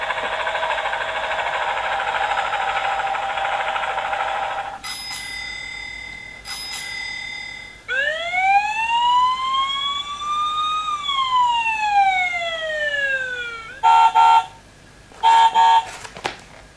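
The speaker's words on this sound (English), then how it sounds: "So with Daniel and Emma, I can get them to identify which of the vehicles they can hear through the various noises." Vehicle noises from a children's push-button sound book (Quarto Wee Gallery): a steady rushing engine drone, then bright bicycle bell rings, a loud rising-and-falling siren wail, and closing bursts of sharp ringing, all electronic and close with no talking.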